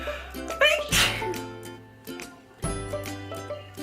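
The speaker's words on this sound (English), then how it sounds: "Oh, I gotta sneeze." A single sharp sneeze bursts out amid small rustles and brief bumps, with a second softer burst a moment later.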